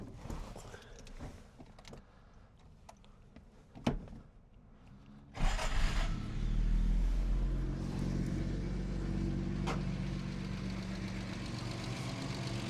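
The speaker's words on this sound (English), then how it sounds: "Go ahead and start it up so you can see it idle." A 1967 Jaguar Mark II 340 with a four-speed is cranked and started after some quiet clicks and a thud, then settles into a steady, smooth, deep idle that runs on close by without talk.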